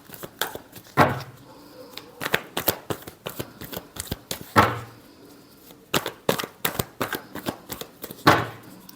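A tarot deck shuffled by hand, with a steady series of crisp card riffles and sharp slaps heard up close, recurring in short bursts without talk.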